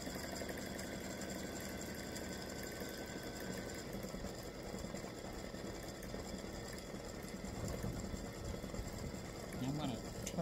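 An embroidery machine stitches the final pass of a free-standing lace stars-and-stripes oval earring set, giving a steady, close mechanical whir with a fast, even needle rhythm throughout.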